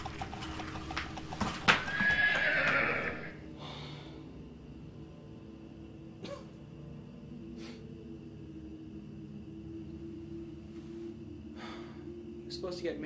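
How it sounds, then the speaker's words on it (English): Horses pulling a carriage give a loud whinny near the start, then hooves clip-clop in sparse, scattered steps against a low rumble, with people talking over it. "Horses stop."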